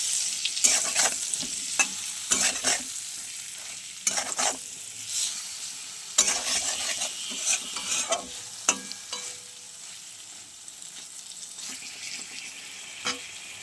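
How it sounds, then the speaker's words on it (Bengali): Food frying in a pan with salt and turmeric added, a steady sizzle broken by repeated scraping stir strokes of a spatula, close and fairly clear with no talking. "এবার চলো সুন্দর করে ভেজে নিই।"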